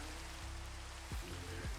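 Rain patters steadily in a video game world, a soft even wash of droplets with a low game hum beneath and a couple of brief swooping tones.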